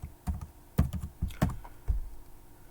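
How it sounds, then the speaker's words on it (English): Keys clatter on a computer keyboard in an irregular burst of close, crisp taps, loud and alone with no voices. "If you click and type in a link"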